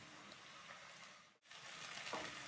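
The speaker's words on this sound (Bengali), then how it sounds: "এটাকেও পেঁয়াজের মতন কষিয়ে নেব, যাতে এরও কাঁচা গন্ধ কেটে যায়" Ginger, garlic and green chili paste frying in oil with onions, a faint steady sizzle that drops out briefly midway, then picks back up.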